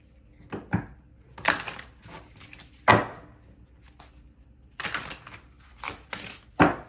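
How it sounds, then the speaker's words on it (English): Tarot cards are shuffled by hand in several separate bursts of riffling and slapping, close and crisp, with quiet pauses between the shuffles. "We're gonna get 3 shuffles to clarify the King of Hazards."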